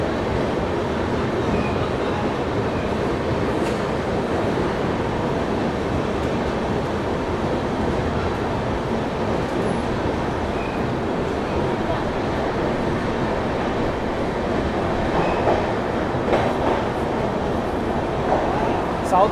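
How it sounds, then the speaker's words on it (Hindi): Bihar Express with Patna Rajdhani coaches overtaking on the adjacent track, heard as a steady, continuous rumble and clatter of passing train wheels and wagons, close and even throughout with no pauses. "बिहार एक्सप्रेस में पटना राजधानी के डब्बे लगे हुए हैं। ये ओवरटेक मार रहे हैं"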